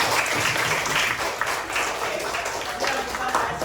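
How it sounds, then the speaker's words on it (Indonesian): A group claps hands together in a classroom training session, dense continuous applause with a few stronger bursts throughout, fairly close and loud. "Oke, tepuk tangan dulu."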